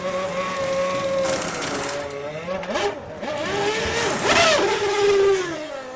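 A 2002 Formula 1 car in a pit stop, engine roaring and revving with rising and falling pitch sweeps and whine, loud and close, mixed with crew commotion and no talk.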